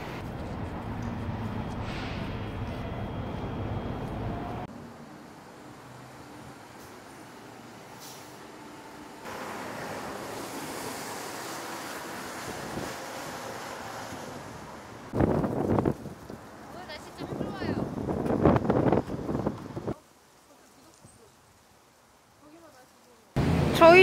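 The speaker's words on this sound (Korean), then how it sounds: "바람도 엄청 많이 불고" Strong gusty wind buffets the microphone outdoors in Quebec City under stormy skies, a steady roar with louder bursts and sudden drops, some quieter stretches between gusts.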